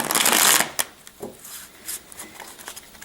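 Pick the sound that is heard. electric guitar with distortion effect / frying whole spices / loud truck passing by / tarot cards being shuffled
tarot cards being shuffled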